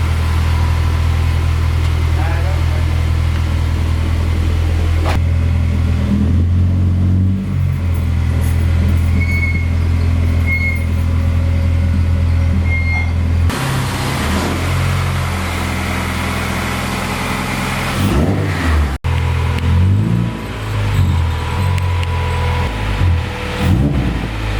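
A car with a budget Honda K24 engine swap driving, loud steady engine drone with shifting pitch as it accelerates and changes gear, recorded close from inside or near the car, with voices at times.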